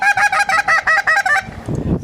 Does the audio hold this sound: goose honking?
yes